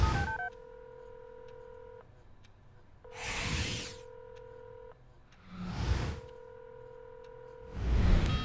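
A telephone being dialed: three bursts of steady DTMF keypad tones, each held for a second or two and separated by short whooshing swells, with no voices.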